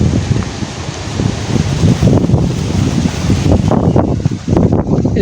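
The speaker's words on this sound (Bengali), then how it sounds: "এই যে কি পরিমাণ বাতাস, গাছটা মনে হয় যে ভেঙে ফেলবে এরকম অবস্থা।" Strong gusty wind roars into the microphone ahead of a storm, turbulent buffeting and rushing bursts with leaves rustling, steady and loud throughout.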